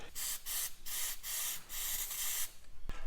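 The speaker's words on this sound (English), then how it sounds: "Hit him with a wee bit of brake cleaner so that I can tell whether it is weeping after I've done the change." Brake cleaner sprayed onto a differential plug on a Landcruiser 200 Series, a series of short hissing aerosol bursts in quick rhythm, close and clear, ending with a small click.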